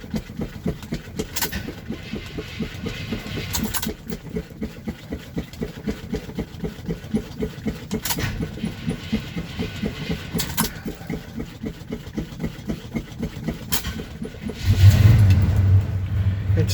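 A 1978 GMC C15 pickup with a weak battery turns over and its mid-sized engine runs on in a steady, rough idle, close and continuous, swelling louder near the end with faint birds in the background.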